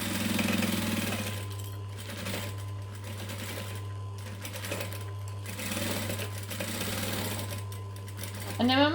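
A sewing machine stitches a wristlet pouch in several short bursts with pauses for pivoting, a close mechanical whir over a steady low motor hum, with a person talking at times.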